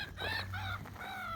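Birds calling outdoors in Stockholm, with rooster- or fowl-like clucking and chirping phrases repeating over a low steady background hum.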